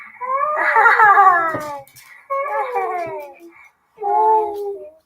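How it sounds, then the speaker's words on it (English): Several dogs howl and whimper in long wavering cries, three bursts separated by brief pauses, loud and close indoors. "Ted hears the dogs"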